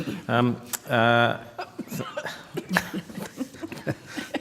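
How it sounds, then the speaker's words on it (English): A couple of strong, harsh coughs open the clip in a Senate committee hearing, followed by a person talking. "So was that a cough, Minister?"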